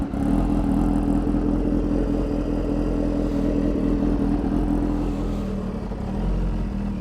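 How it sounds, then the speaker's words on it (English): Kawasaki Ninja H2R motorcycle idling unevenly, a close, steady low engine rumble whose level sways slightly up and down, with no voices. "Never heard it idle kind of funny like that, kind of like go up and down."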